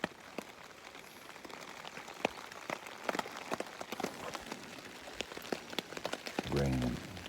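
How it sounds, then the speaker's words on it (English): Steady rain falls in the morning at a woodland campsite in southeastern Oklahoma, with a continuous hiss and scattered close drops tapping on a surface, fairly quiet and heard alone. "Raining."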